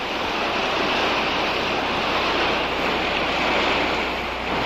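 Waves washing in at the shore as the tide rises, forming a steady, dense surf roar with wind noise blended in. It stays loud and unbroken throughout, with no voices.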